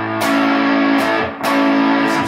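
An electric guitar on its neck pickup through an Electro Harmonix Flat Iron Fuzz pedal plays two loud, thick, saturated chords, each ringing out with heavy fuzz sustain, played alone without talk.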